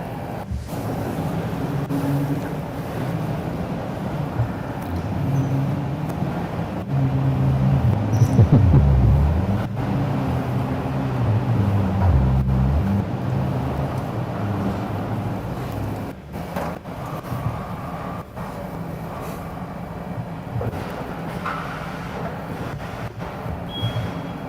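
Faraday Future FF 91 luxury electric car creeping along slowly, a low steady rumble of tires and cabin noise with a few soft thumps and bumps, fairly quiet and without talk.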